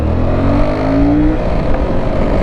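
A car accelerating hard through its gears, engine revving loud and close in a continuous droning roar with rising pitch, no voices over it.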